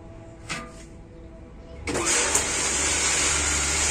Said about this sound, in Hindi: अभी मोटर चालू करेगा